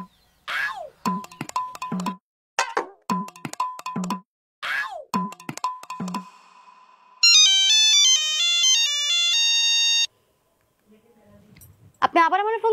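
A mobile phone rings with a bright, stepped electronic melody lasting a few seconds, following a stretch of lively conversation, and talk resumes after it stops.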